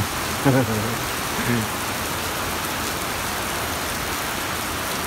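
Heavy New Year rain pours down in the UAE as a dense, steady hiss of drops on surfaces, with a brief voice speaking near the start.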